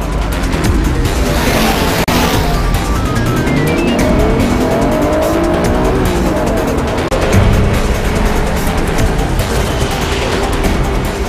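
Cartoon race cars roar continuously through a race, engines whining with rising and falling pitch, brief tire squeals, and steady loud motor noise throughout.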